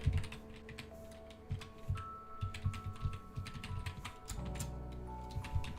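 Rapid, irregular clicking of keys on a computer keyboard, fairly close, with brief pauses between bursts and a faint steady hum behind.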